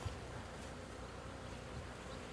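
A swarm of honey bees buzzes at a rooftop hive removal, a faint, even droning hum with no pauses over a couple of seconds.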